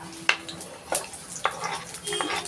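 Onion fries in oil in a pan at home, a soft sizzle under a few sharp clinks of a utensil stirring against the metal.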